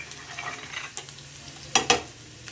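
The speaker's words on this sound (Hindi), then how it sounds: "अच्छे से घी में फ्राई करना है" Spices and jeera frying in hot ghee in a pan, a soft steady sizzle broken by a few sharp scraping stirs near the end, close and without speech.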